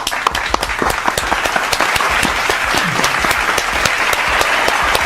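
Applause from a crowd gathered for a football recap show, steady and close, with dense overlapping claps and a few sharper hits running the whole length, no talk over it.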